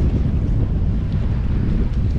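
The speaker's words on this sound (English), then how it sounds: "Pretty windy." Strong wind roars steadily across a kayak microphone at sea off Hawaii, a dense, loud, unbroken rumble with faint water wash beneath and no talking.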